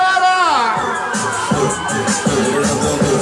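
A crowd of children and fans shouts and cheers at a lively rock-samba show in Loanda, with a steady babble of voices and rhythmic music beating underneath throughout.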